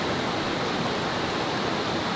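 A mountain stream of snowmelt runoff rushing steadily, a broad and constant close roar of water with no talking.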